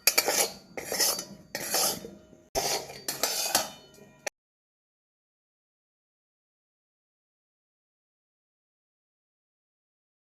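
A metal spatula clanks and scrapes against a wok while Bombay duck (lote) fish is stirred, with several bursts of clattering over about four seconds, followed by silence.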